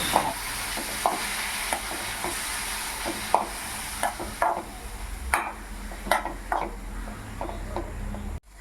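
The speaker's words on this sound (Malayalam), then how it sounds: "കട്ട് ചെയ്ത ബീട്രൂട്ട് ചേർത്ത് കൊടുക്കാം ഉള്ളി ആവശ്യത്തിന് ഉപ്പും ചേർത്ത് ഇളക്കി കൊടുക്കുക" Beetroot, onion and salt being stirred in a pan with a spoon, giving repeated scraping strokes over a steady sizzle, fairly close and continuous with no speech.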